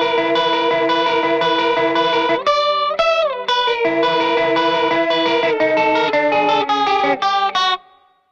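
An electric guitar through a Tonebender fuzz plays a twisting, warbling lick with a wavering vibrato effect and chorus-like shimmer, fairly loud, ending in a brief ringing decay.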